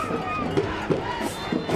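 A high school football crowd at Church Point versus Northwest roars and cheers after a kick return touchdown, a steady loud wall of voices with brief swells.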